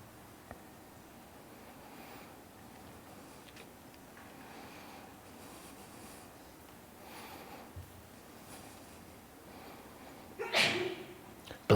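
A single sneeze bursts out near the end of a quiet stretch during a church Christmas sermon, louder than the faint rustling and room noise before it.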